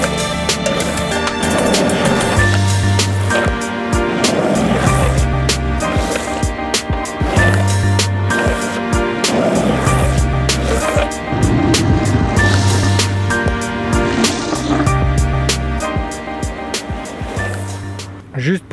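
Skateboard wheels rolling and sliding on pavement during an urban freeride session, repeated rumbling runs with low grinding bursts at regular intervals, fairly close and loud, with outdoor noise throughout.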